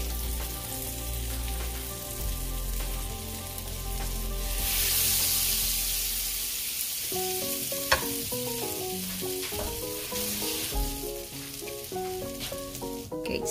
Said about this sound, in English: Melt the butter and put some of the minced garlic.